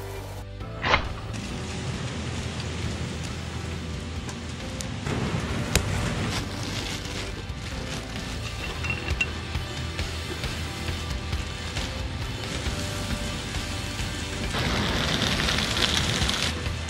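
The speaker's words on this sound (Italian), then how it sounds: "Piove" Steady rain falling over a winter sea-kayak bivouac at San Fruttuoso, a dense continuous wash of patter with a few louder knocks, close and fairly loud throughout with no talking.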